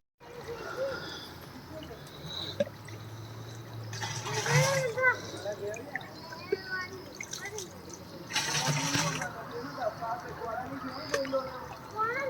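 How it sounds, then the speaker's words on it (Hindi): Water from a mountain spring in Abbottabad flows and splashes steadily at close range, with louder gushing bursts and faint background voices. "ये है जी पानी माशाल्लाह, चश्मे का खूबसूरत पानी"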